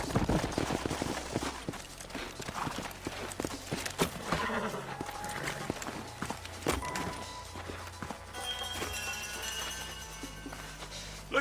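Horse hooves clop along in the Western video game Red Dead Redemption, steady walking footfalls mixed with game music, clanks and ambient effects, fairly faint throughout.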